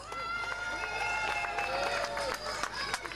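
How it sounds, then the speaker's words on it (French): Audience applause at a festival presentation ceremony, a dense sustained clatter of many hands under cheering and voices, with an announcer talking over it. "On les applaudit aussi bien fort."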